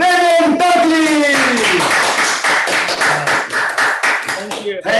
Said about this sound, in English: give a round of applause to our regional president, David Dudley